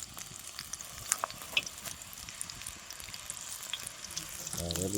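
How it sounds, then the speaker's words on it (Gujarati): Pakoras frying in hot oil at an outdoor village cookout on a farm, a continuous crackling sizzle with scattered pops, a voice briefly heard near the end. "તળવાનું ચાલુ કરી દીધું છે."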